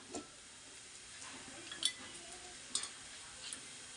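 Onion frying in ghee in a pan while making chivda, a faint steady sizzle with a few light clicks and scrapes of a utensil, heard close and quiet with no talking.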